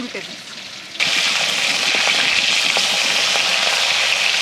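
Pieces of fresh pond pangas fish fry in oil with a loud, dense, continuous sizzle that swells abruptly after a quieter opening second; no talking.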